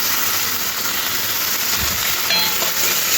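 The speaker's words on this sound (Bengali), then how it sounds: "পেঁয়াজটা এইরকম ভাজতে হবে বেশি লাল না এবার পেঁয়াজের মধ্যে দিয়ে দেব কেটে রাখা একটা টমেটো" Chopped onion and tomato fry in a hot pan for a Bengali fish curry, giving a loud, steady, close sizzle with a constant hiss and faint stirring, with no voices.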